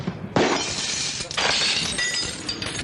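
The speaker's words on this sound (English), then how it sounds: "As soon as the window went in" A car window smashes in, a sharp, loud burst of shattering glass followed about a second later by a second crash with tinkling fragments settling afterward.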